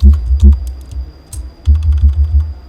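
Quick bursts of close keystrokes on a computer keyboard, clattering in two clusters separated by a short pause.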